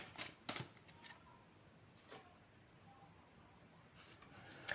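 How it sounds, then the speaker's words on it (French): Fairy oracle cards being shuffled and drawn, a few faint papery riffles and card flicks at the start and end with quiet pauses between, close but soft with no speech. "je vais rajouter une dernière carte pour vous ici, avec les cartes des fées"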